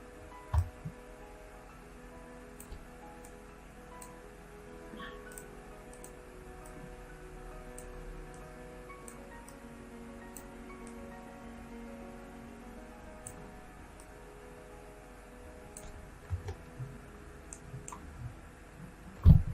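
Computer keyboard shortcut keys pressed while working in Moho animation software, sparse soft clicks and taps spread across a quiet room tone, with a few louder clicks near the start and end.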